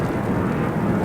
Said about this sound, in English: Excuse these planes going over.